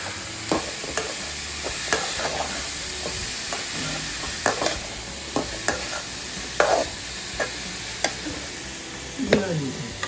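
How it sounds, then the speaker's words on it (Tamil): Banana stem is stir-fried in a pan, with a soft steady sizzle and repeated sharp scrapes and clacks of the spoon stirring, close up and without talk. "இந்த வாழைத்தண்டு ஒரு கோல்டன் கலரில் வரும். இது மாதிரி நல்லா வதக்கி வைக்கலாம்."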